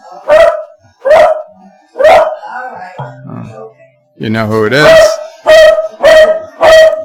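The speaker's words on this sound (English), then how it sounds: "So the hum is gone, but the barking has begun." Dog barking in repeated sharp bursts, about six loud barks spread across the clip, with a person speaking briefly in between.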